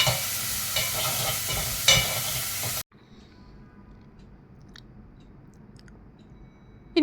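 Green chili, ginger, garlic and curry leaves fry in a pan for a toddy-shop style fish curry, sizzling loudly under brisk stirring scrapes, then dropping abruptly to a faint hiss with scattered clicks.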